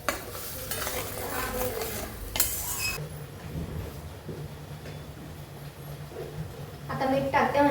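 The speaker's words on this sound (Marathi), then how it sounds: "आता छान तो परतवून द्यायचा तेल सुटेपर्यंत." Masala stir-fried in oil for an egg curry, a sizzle with repeated scraping and clinking of a spoon against the pan, close, with someone talking over parts of it.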